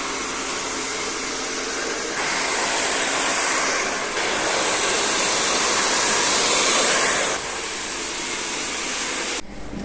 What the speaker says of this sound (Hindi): अब ब्लो ड्रायर करते हैं।